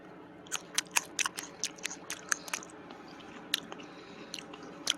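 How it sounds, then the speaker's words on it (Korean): Chewing a young spring herb leaf close up: a series of crisp, irregular crunching bites, sharp and near, over a steady low background hiss, with no talking. "이 어린 잎은 제가 한번 뜯어서 씹어서 한번 먹어 보겠습니다"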